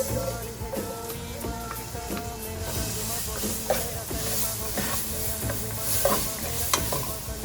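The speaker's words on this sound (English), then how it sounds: "I'm going to let that fry away for a good 5 minutes" Garlic and onions fry with spices in a pan for Indian dhal, a steady loud sizzle and hiss with occasional stirring knocks, while someone talks over it.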